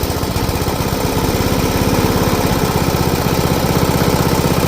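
A small go-kart engine idles loudly and steadily up close in a garage, its rapid chugging pulse continuing without a break.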